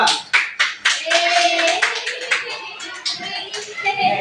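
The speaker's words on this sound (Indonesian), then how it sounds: "Tepuk tangan untuk kelompok 2" Classroom clapping for a student group during a teaching session, a few sharp bursts of hands mixed with voices talking and some shuffling, close and fairly loud.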